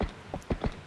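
A horse's hooves clip-clop in the video game The Legend of Zelda: Twilight Princess, a few quick, distinct hoof strikes in an uneven trot rhythm, moderately loud.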